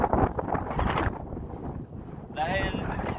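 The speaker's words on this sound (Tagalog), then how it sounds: "Dahil malakas yung hangin." Strong wind buffets the microphone at Gullfoss waterfall in Iceland, a constant roar under talking voices.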